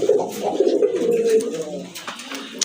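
Close cooing of a large male pigeon, a low throaty warble repeated in soft rolling phrases, with a few light rustles in between.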